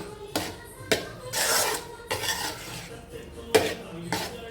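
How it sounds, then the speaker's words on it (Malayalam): Spoon stirring and mixing a brinjal (aubergine) dish in a pan, with sharp scraping knocks against the metal and rubbing strokes in an irregular rhythm, close and moderately loud. "നന്നായിട്ടൊന്ന് ഇളക്കി യോജിപ്പിക്കാൻ നമുക്ക്."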